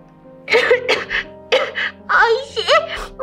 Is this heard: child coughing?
yes